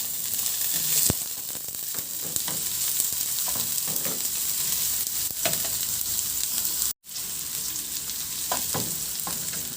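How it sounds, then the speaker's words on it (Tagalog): Garlic and onion sizzling in hot oil in a pan, a steady close crackle with occasional sharp pops and stirring clicks, no voices. "Magpainit na rin ako ng mantika at igisa ko na yung bawang. Ilagay ko na rin yung sibuyas."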